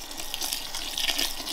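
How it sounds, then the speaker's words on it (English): Heated water pours steadily onto malted grain during the mash dough-in for a homebrewed American-style IPA, a continuous splashing gush with no voices over it. "We are saturating it as well as we can with heated water."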